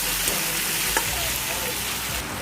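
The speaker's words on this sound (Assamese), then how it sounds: "বিলাহীখিনি মই 5 মিনিট সময় ভালকৈ ভাজি ল'ম যাতে বিলাহীখিনি ভাঙি যায়।" Tomatoes fry in a pan with a loud, dense, continuous sizzle, close up, broken only by a few faint clicks of stirring.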